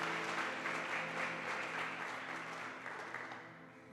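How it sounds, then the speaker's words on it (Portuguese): A church congregation applauds together during a sermon, a dense sustained clapping that stays loud and slowly fades toward the end, with no talk over it. "Dá um aplauso a Jesus."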